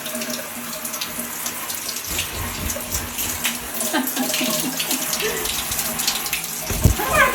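Shower water runs and splashes steadily in a bathroom while a dog bathes, a continuous spray with brief knocks and sloshing, a voice briefly audible over it.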